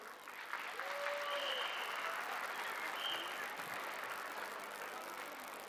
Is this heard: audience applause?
yes